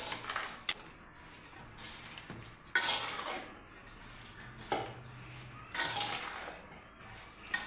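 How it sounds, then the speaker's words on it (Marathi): Spoonfuls of turmeric and cumin powder being stirred into homemade lemon pickle, giving repeated soft scraping and clinking of a spoon against a bowl in irregular bursts, fairly close and quiet, with no talking. "आता हे आपण व्यवस्थित चांगलं मिक्स करून घेऊया।"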